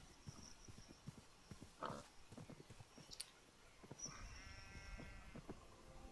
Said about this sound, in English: Have to save the sheep, man.